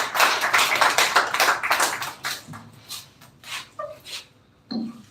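Audience clapping for a student speaker at a computer education semi-final event. A small group claps briskly at first, then thins into a few scattered claps and light taps.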